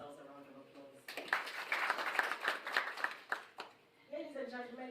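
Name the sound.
applause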